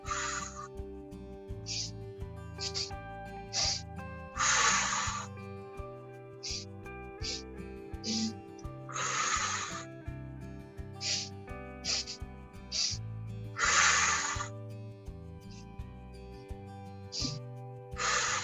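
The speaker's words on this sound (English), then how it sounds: "Inhale, inhale, inhale, exhale." Slow yoga breathing during a gentle spinal twist flow: long, airy breaths drawn in and pushed out at a steady, unhurried pace over soft background music.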